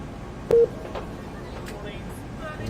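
A mobile phone gives a single short, loud electronic beep, alone over a steady low background hum.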